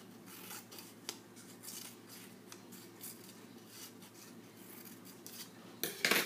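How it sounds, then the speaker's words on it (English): Scissors snip a series of short lines into paper for an Easter pop-up card, giving quiet close crisp cuts at an irregular pace with a louder rustle at the end. "So I'm just going to cut little lines going down."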